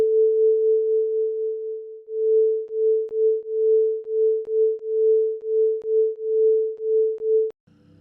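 A steady pure Moog analog synthesizer oscillator tone holds, then begins pulsing in regular rapid wavers of vibrato, ending abruptly with a faint low rumble.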